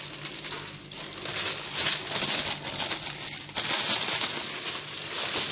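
Plastic bags crinkle and rustle up close while being handled and tied around fesikh, salted fermented fish, in uneven bursts of crumpling with a louder burst near the end.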